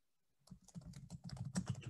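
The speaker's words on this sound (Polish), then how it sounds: "będę wysyłać Ci, Wojtku, wiadomości z branży, przecinek, enter" Rapid clatter of keys as an email is typed on a computer keyboard, close and fairly quiet, with irregular bursts of keystrokes and a few harder taps near the end, no voices.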